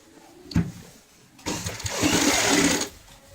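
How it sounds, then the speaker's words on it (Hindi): A sewing machine stitches fabric around the rim of an old bucket being made into a stool. A brief first burst is followed by a longer, louder run of rapid mechanical whirring close by. "पूरी गोलाई में ऐसे सिलाई लगानी होती है।"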